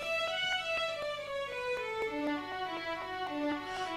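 Two bars of a hornpipe tune are played on a melodic instrument, every note evenly weighted with no accents, a steady flat stream of quick notes at moderate volume.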